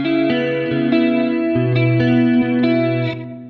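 Pop-style electric guitar tone with chorus and effects for a pop song part: clean plucked notes repeating in a steady rhythm, shimmering and close, with no voices.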